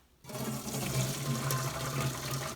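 Boiled potato water drained into a kitchen sink, a steady broadband splashing rush with low gurgling that begins abruptly and continues without pause.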